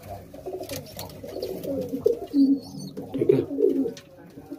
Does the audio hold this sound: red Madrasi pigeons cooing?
yes